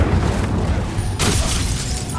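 A fire spell cast in Hogwarts Legacy, with a loud, dense roaring burst of flame that swells again midway and stays continuous throughout, mixed with battle noise.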